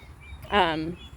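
A single short, nasal quack from a duck in a barnyard where a hen and drake mingle with four-week-old ducklings, close and clear against a quiet background.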